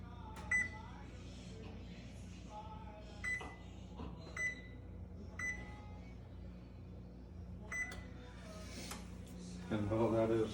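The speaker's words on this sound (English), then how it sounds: "First step is to preheat your oven to 375 degrees" A kitchen oven being set to preheat to 375 degrees, with a series of sharp electronic beeps from the control panel spaced a second or two apart over a quiet room hum, and a louder clatter at the end.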